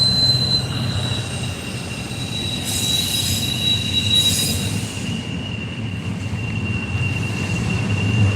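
A freight train with double-stack intermodal cars rolls past steadily with a continuous rumble and a high, sustained wheel squeal, loud and close, with no talking.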